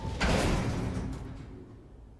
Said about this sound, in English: After the roar of the crashing shutter faded